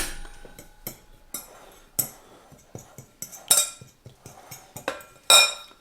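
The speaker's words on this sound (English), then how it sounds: "I'm going to get a spoon to mix it up with and break up some of the clumps as we go" A spoon stirs almond flour in a bowl to break up clumps, giving a string of irregular clinks and scrapes against the dish, close and fairly quiet with louder knocks now and then.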